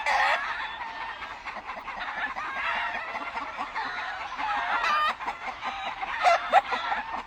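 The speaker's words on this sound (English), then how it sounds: "this is our little round-head hatchcock" A round-head hatch cross gamecock crows and clucks on a Louisiana farm, its calls steady and fairly close amid other fowl noise, with no talking.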